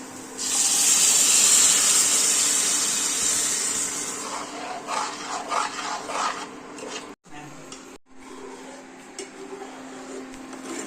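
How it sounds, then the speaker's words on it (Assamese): Hot milk pours into a pot of bottle gourd kheer, a steady close liquid stream that loudens briefly then thins into softer splashes and stirring with short pauses. "গাখীৰ অলপ ঢালি দিম অলপ অলপকে"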